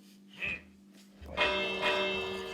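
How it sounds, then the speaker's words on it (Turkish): In the video game Minecraft, a bell is struck once and rings with a bright, sustained metallic tone that decays slowly, preceded by a short softer knock, with a voice briefly heard nearby. "Ben çanı çaldım"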